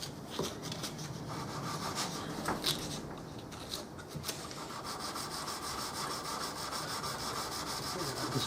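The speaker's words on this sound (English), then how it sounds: "Just rub backwards and forwards." A hand rubbing a wood finish with P400 abrasive on a flexible backing, a soft continuous back-and-forth scuffing heard close and quiet, with faint low room noise underneath.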